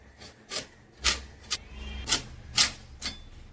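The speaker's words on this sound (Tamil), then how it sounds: "இப்ப நம்ம பீட்ரூட்டை கட் பண்ணி இதுலயே போட்டுக்கலாமா?" Beetroot being cut by knife in a home kitchen: a series of about seven crisp, rasping strokes at roughly half-second intervals, close and moderately loud, with no talk.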